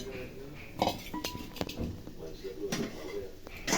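Clinks and knocks of cooking ingredients dropping into a mixer jar, several light taps and clatters at irregular intervals.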